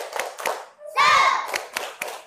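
A standing class performs a rhythmic spirit clap, several sharp group claps in a pattern broken by a shouted chant in unison midway.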